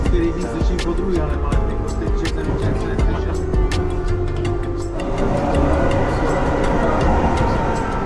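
A Prague metro train, type 81-71, rumbles steadily along the tracks, loud and close, its tone shifting partway through as it gathers speed.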